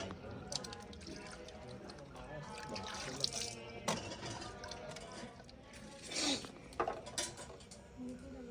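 Apples dusted with soil and spice residue are washed under a running kitchen tap, with a steady stream of water splashing and gurgling in a sink, occasional louder surges and clatter as the fruit is handled, and faint voices in the background.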